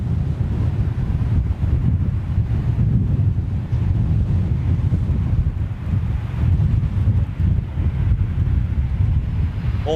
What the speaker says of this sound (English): So it's almost a direct headwind at the moment.